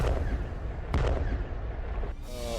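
A howitzer with the Ukrainian army fires GPS-guided shells: one sharp boom cuts through a rumbling outdoor background, heard from some distance, followed by brief faint sounds at the end.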